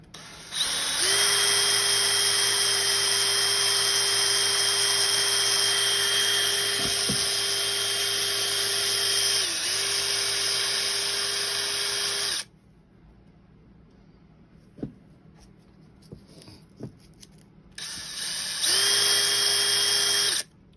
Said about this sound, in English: Just using a little bit of rusty, cruddy sandpaper on that front.